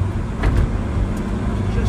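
A small green Vauxhall VX220 sports car driving through country bends, its engine a steady low rumble with road and wind noise throughout, heard from inside the car.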